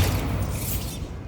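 Bombarda spell in Hogwarts Legacy bursts as a loud, broad explosive blast that fills the moment and then trails off in a rumbling wash.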